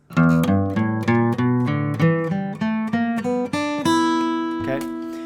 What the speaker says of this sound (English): So the blues scale sounds like this.